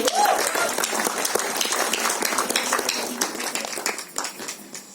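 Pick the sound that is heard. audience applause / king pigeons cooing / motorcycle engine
audience applause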